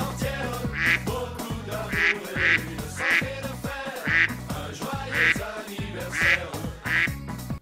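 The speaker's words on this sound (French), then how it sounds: "J'ai relâché les canards. Ils avaient l'air malheureux." Ducks quack loudly and repeatedly in a steady rhythm, about one harsh call every second, close to the listener.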